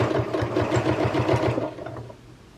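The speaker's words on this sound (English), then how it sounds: "make sure that corner fabric is out of the way and you're only sewing 2 layers of fabric" A sewing machine stitching two layers of fabric for a quilted hot plate, a rapid even mechanical chatter running close up before slowing and stopping near the end.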